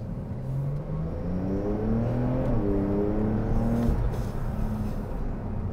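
A Porsche 911 Turbo S 992 pulls hard at half throttle, its engine note climbing in steady stepped rises through the gears, loud and close, with no talk over it.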